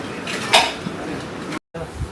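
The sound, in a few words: metal bowls being put into a container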